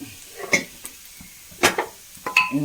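Cooked beans added to fried chili and grated coconut in a pan, heard as a few distinct clinks and scrapes of a utensil against the pan with short soft sizzles between them, close and sparse over a quiet background.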